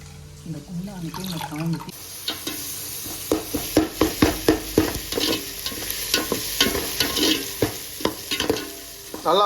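Ingredients for a mango, egg and fish gravy being stirred and sautéed with salt in a pan, steady sizzling under repeated scraping strokes of a spoon, close and fairly loud.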